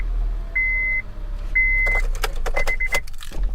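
A small car at a salvage auction idles after starting up, a low steady engine hum underneath repeated electronic warning chimes and a run of clicks and clunks from inside the cabin.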